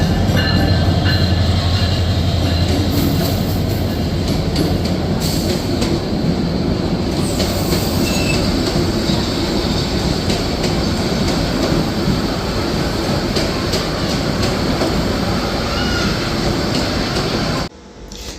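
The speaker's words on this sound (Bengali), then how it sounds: "যথাসময় না এসে 1 ঘন্টা লেট করে ট্রেনটি আসলো" A Bangladesh Railway train pulls into a station near an airport with a loud, continuous rumble and rattle of wagons and wheels, close by and steady throughout, with no talking.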